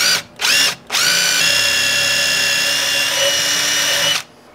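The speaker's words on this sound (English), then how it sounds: "So we're going to try to drill a straight hole in the end of this" A power drill whines in two short bursts, then runs steadily for about three seconds while boring a straight hole into the end of a wooden stick for a tomato trellis, loud and close.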